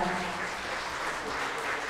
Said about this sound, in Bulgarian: Ръкопляскания, дами и господа